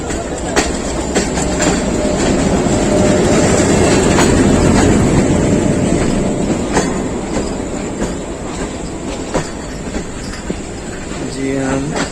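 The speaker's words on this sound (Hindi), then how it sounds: "जी हाँ, 3 नंबर पे ही लग रही है ट्रेन।" A Pakistan Railways train pulls into platform 3 at a busy station, wheels clattering and squealing steadily over the rails, loud and near, while voices talk over it.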